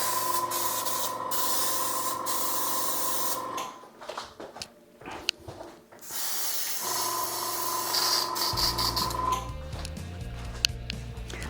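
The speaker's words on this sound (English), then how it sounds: "I'm just going to airbrush to around about there" An airbrush sprays body paint in long steady hissing bursts, close and loud, with a short pause midway where the spray stops and starts again.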